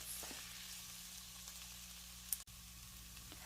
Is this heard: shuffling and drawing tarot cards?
no